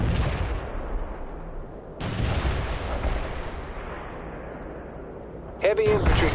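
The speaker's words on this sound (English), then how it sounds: "Artillery firing." Heavy artillery booms and rumbles in the World in Conflict video game, with several deep blasts and long rolling echoes, plus a voice heard briefly near the end.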